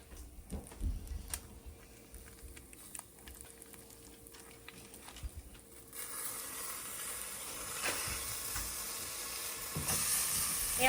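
Rice is stirred into a sizzling pan with stock concentrate, steady frying hiss and scraping throughout, growing louder and denser in the second half as the pan heats.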